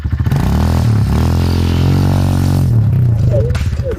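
A motorcycle engine revs hard during a stunt, rising and falling in pitch as the throttle is worked, loud and close with a rough mechanical rasp and brief clatter near the end.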